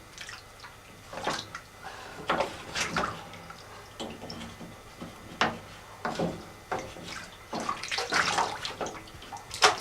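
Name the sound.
water filling a kettle from a tap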